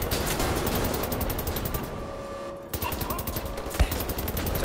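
Rapid automatic gunfire in the shooter game Wolfenstein: The New Order, dense bursts that drop out briefly and then resume with a sharp, loud shot and more firing, under a faint voice.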